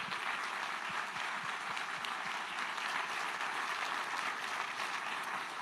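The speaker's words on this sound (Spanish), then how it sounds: "Así que les damos un fuerte aplauso a los 5." A large audience claps steadily and densely at a university event honoring five people, a sustained wash of applause with no voices rising above it.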